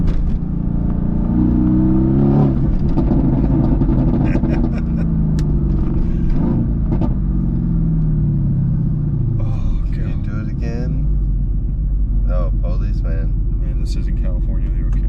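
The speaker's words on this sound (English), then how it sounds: "It's a V8 twin turbo." A 2016 Mercedes-AMG GT S with a twin-turbo V8 drives along in a loud, low cabin rumble, with the engine note rising and falling as it accelerates. People talk over it at intervals.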